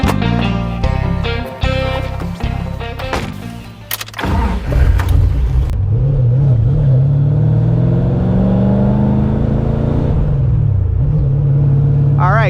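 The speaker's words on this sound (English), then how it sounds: "As you could hear, sounds straight up like an old muscle car" A V8-swapped Mazda Miata, a deep burbling engine heard close, with music-like tones at first, then a sustained loud rumble as it drives and revs, pitch rising and falling with throttle.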